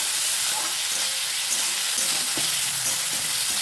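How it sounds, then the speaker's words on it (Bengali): Onions and chopped tomatoes frying in a pan while being stirred, with salt added: a steady, close sizzle with faint scraping stir sounds, no talking. "এরপর দিয়ে দিচ্ছি 2টো টমেটো কুচি আর তার সাথে স্বাদ অনুযায়ী লবণ দিয়ে ভালো করে নাড়াচাড়া করে নেব"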